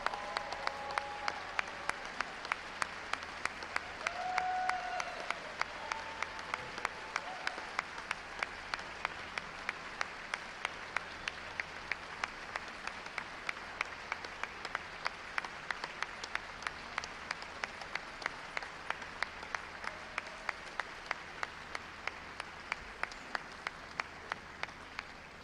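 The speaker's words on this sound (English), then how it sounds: "Let's give all these kids a round of applause." Long sustained round of applause for children in a legislative chamber at a governor's State of the State address, steady crowd clapping that fills the hall without speech.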